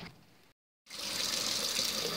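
Cold tap water gushes into an empty bottle taken from the fridge to rinse it out, a steady splashing rush that starts after a brief pause and continues loud and alone.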